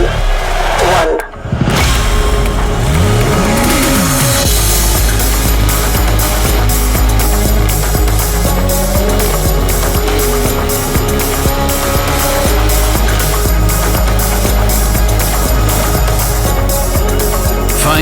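Porsche race car fitted with Manthey performance parts driving on a racetrack, a loud continuous engine roar with shifting pitch through acceleration and gear changes, close and dominant throughout with no speech.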